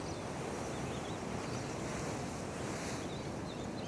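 Ocean waves surge and break on a shore in a steady, dense roar mixed with wind buffeting the microphone, with no voices.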